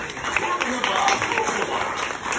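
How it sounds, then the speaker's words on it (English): Audience applause inside the Enchanted Tiki Room show attraction, a dense wash of clapping mixed under voices and show sound. "Applause, applause, that's so good."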